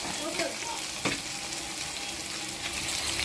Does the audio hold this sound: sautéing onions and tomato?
yes